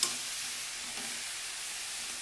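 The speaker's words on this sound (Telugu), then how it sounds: "దీంట్లో కొంచెం నెయ్యి వేసి వేయించుకోండి." Carrots fry in ghee in a pan while being stirred, giving a steady, even sizzle and hiss at moderate loudness throughout, with no speech.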